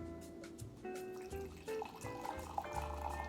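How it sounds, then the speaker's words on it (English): Brewed coffee pours from an American Press into a glass, a soft close trickle and splash that runs steadily for a few seconds over faint background clatter. "We're gonna pour this out."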